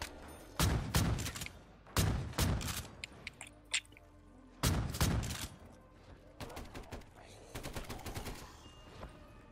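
Shotgun blasts in Call of Duty Zombies on the Holdout map, several loud, sharp reports in clusters with short gaps between them and a quieter rattle of further shots later.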